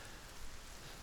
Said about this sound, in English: this rain is slowing down some of my factories